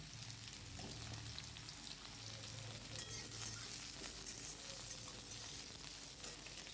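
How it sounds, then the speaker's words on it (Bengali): Bitter gourd and okra frying in hot oil in a kadai, a continuous crackling sizzle with occasional stirring scrapes, close and steady with no talk. "উচ্ছেটা ভালো করে ভেজে নেব আর এদিকে ভেন্ডি ভাজা হচ্ছে"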